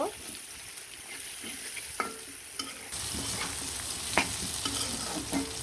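Chopped onions fry in hot oil with a steady, close sizzle that swells louder partway through, broken by occasional scrapes and taps of stirring.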